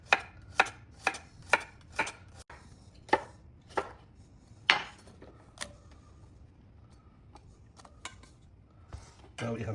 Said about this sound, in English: make sure to wash all the vegetables before I start cutting and peeling